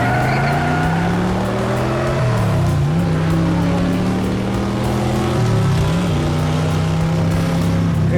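Diecast street race with a race car engine effect whining in long sustained pitch sweeps, the tone dipping and climbing twice, alongside a tyre-squeal hiss, loud and continuous throughout.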